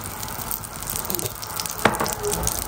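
Dosa sizzling in oil on a hot pan, a steady close hiss with a brief sharper spatter partway through, no voices.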